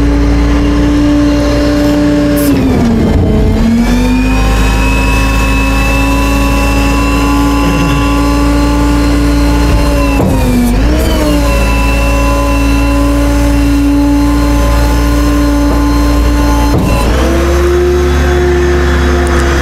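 A rollback tow truck's hydraulic bed being rolled up, with the engine droning loud and steady at high idle and the pitch dipping and recovering a few times as the bed moves; no talking.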